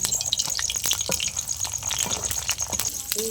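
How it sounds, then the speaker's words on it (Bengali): Hot oil crackles and spatters in a pan as matar paratha fries, with sharp irregular pops and sizzling bursts over a hiss, close and fairly loud, with no talking. "তেল ছিটকাচ্ছে"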